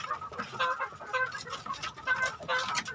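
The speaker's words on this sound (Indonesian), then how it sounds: "Nah ini tinggal 1 ekor babon sedulur." A hen clucks repeatedly in a chicken coop, a close, steady series of short clucks with no talking.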